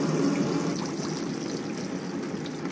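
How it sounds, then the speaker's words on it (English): Hot water runs from a tap in a Swift Ace Globetrotter caravan, a steady close splashing stream with a constant hiss and no voices. "There we go, hot water coming out the tap"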